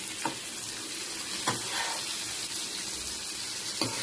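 Sliced ash gourd frying in a pan, steady sizzle with three distinct scrapes of stirring spaced a second or two apart, close and alone.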